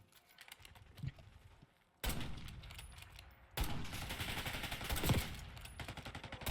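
Bursts of video game gunfire, with a quieter opening volley, then two louder rapid barrages of repeated shots that cut in abruptly and hold near and loud.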